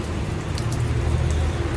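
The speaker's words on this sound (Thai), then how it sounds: "นี่นะครับฝนตกนะครับ ฝนตกฝนตก" Steady rain falls outdoors near a drainage channel, a dense continuous hiss of drops hitting surfaces with a low rumbling undertone and no voices.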